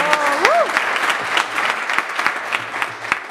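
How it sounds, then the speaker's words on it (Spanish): Party guests applauding at a birthday celebration with a youth mariachi band, a sustained close wash of clapping with a brief whoop-like cheer near the start and a few sharp claps standing out. "Y ese aplauso."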